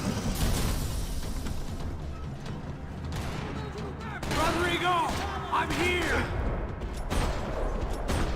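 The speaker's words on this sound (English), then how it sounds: "Another parking lot rattling with gunfire." Gunfire in a parking lot in Max Payne 3, rolling bursts and heavy booms at a moderate distance, mixed with voices and a sharper, busier flurry of shots about halfway through.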